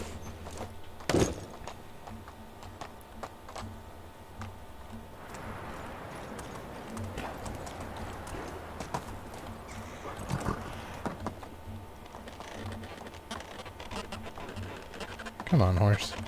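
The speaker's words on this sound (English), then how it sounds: "Come on, horse. Work with me here," A horse's hooves clip-clop steadily in the medieval farming game Medieval Dynasty, a rhythmic patter under ongoing talk with a few louder thumps and clatters.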